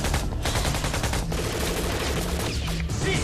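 Sustained gunfire in a TV crime drama: dense, continuous rattle of shots at steady loudness across the whole stretch, with no talk.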